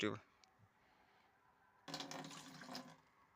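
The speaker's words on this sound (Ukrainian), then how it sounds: "Ну, а тепер черга пролить наші касети." Water is poured over eggplant seedling cassettes in roughly 100 ml measures, a steady splashing pour that starts partway through, after a short knock and some quiet.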